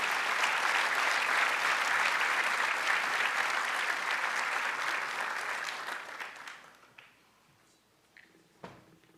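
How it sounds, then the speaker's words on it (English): Audience applause at the 2013 National BDPA Awards Gala dinner, a dense, loud wash of many hands clapping steadily for several seconds before thinning out and fading to a few last stray claps. "I'd like you to give yourselves a round of applause"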